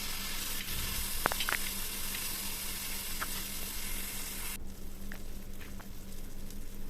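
Two large chopped onions sautéing in a pan for kothu parotta give a steady close sizzle with a few faint utensil clinks, the hiss easing slightly toward the end.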